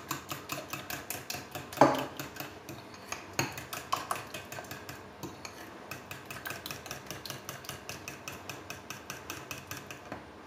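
A whisk beats fish terrine batter with milk and cream in a bowl, giving rapid, steady metallic strokes up close, unbroken for several seconds.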